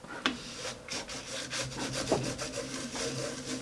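Dry rubbing and scraping across a watercolor painting page, a continuous close, gritty friction sound with repeated back-and-forth strokes and no voice.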